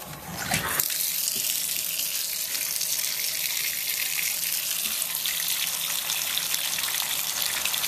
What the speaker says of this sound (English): I'm just going to turn the water on.